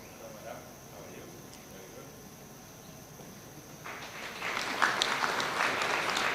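Applause rises at an awards ceremony for taxpayers, starting faint under room hum and swelling into louder, denser clapping from the audience toward the end.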